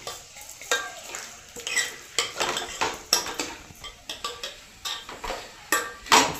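A spoon stirs chilli powder, turmeric and salt frying in a cooking pan, making rhythmic metallic scrapes and taps against the pan over a faint sizzle, with no talking.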